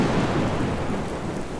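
Steady rain pours alongside a low rumble of thunder, forming a dense, loud storm wash that stays even throughout a radio-play scene, with no voices.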